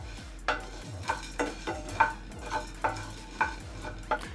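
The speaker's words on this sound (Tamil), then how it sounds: "இதெல்லாம் வந்து நம்ம 1 நிமிஷம் வரைக்கும் நம்ம வறுத்து எடுத்துக்கலாம்." Coriander seeds, black pepper and cumin dry-roast in a pan, with a spoon stirring and scraping in a regular rhythm of soft scrapes and light rattles, close and fairly quiet, with no voices.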